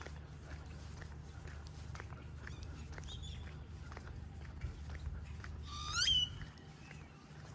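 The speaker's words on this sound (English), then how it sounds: "You guys hear the birds?" Birdsong outdoors in the Lone Mountain neighborhood of Las Vegas, Nevada, with faint chirps throughout and one brighter trilling call near the end, all over a steady low background rumble.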